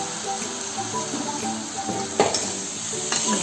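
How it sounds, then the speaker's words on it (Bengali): Boiled ghugni dal being stirred into masala in a hot pan, with steady close sizzling and frying under soft scraping and stirring, plus a couple of sharper clinks of the spoon near the end; no speech. "মশলার সঙ্গে ভালো করে ঘুগনির ডালটা আমি মিশিয়ে দিচ্ছি"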